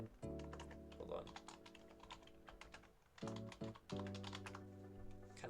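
Unhurried clicking on a computer keyboard comes in short bursts separated by brief pauses, quiet and close, with someone talking over the keystrokes.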